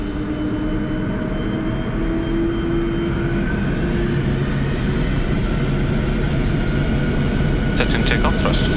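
A Boeing 747 cargo jet rolls down the runway at takeoff thrust, heard from the cockpit as a loud, constant engine roar with rising tones and deep rumble, ending in a few sharp clicks.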